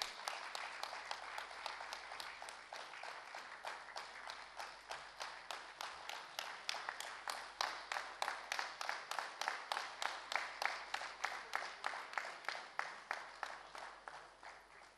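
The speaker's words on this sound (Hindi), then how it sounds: "जोरदार तालियां" At an award ceremony honouring Padma Shri recipient Tulsi Gowda, an audience claps in a steady, rhythmic beat that runs for about fifteen seconds, heard from a distance and fairly faint.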